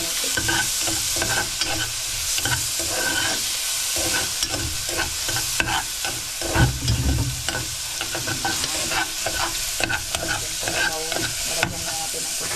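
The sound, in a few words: sautéing onion and garlic in a pan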